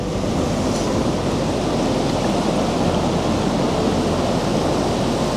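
Strong sea waves breaking on a shore, a continuous loud broadband wash of surf with no pauses and no voices.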